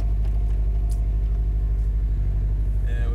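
A track car's engine runs with a steady low rumbling idle, close and loud throughout, without speech.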